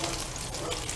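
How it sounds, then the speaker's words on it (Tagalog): Chicken frying in hot cooking oil in a home kitchen, a dense, continuous loud sizzle and crackle filling the whole moment. "Nagpiprito na ako."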